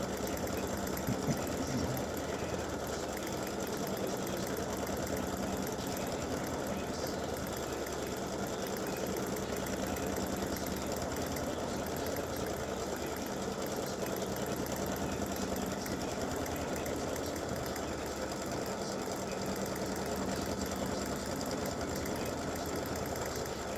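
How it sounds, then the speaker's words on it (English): An embroidery machine stitches a light champagne-glass applique with a steady, even mechanical whir that runs unbroken throughout, with no voices. "It's a very light stitch."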